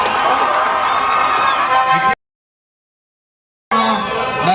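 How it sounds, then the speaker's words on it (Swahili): A crowd at an opposition political rally in Kisii, Kenya, claps and cheers loudly, and the noise cuts out to total silence midway before resuming. "Tuwapigie makofi wa Kisii."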